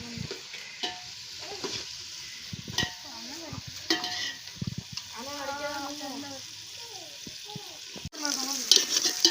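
Food sautéing in a pan at a home Sunday cook, a continuous close sizzle with stirring scrapes and utensil clatter, while people talk over it.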